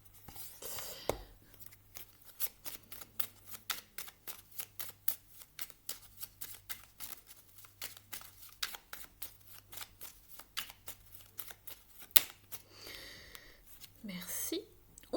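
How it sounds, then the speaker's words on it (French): Aboriginal Dreaming Totems tarot deck being shuffled in rapid, rhythmic riffles of soft card flicks at close range, with a voice speaking briefly at the start and end. "Je vais vous prendre une carte maintenant du Aboriginal Dreaming Totems"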